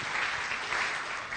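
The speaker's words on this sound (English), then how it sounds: "Can you please give all our panel members a big round of applause?" Audience applause for the panel members at a 2014 community forum, a steady wash of clapping from many hands filling the whole moment without pause.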